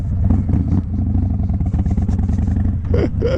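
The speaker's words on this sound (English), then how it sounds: "I do a real brake test, mate, from 80 kilometers an hour." A 2025 Harley-Davidson Fat Boy motorcycle braking hard from 80 km/h, a loud close rumbling engine that drops away with clattering, then a brief voice near the end.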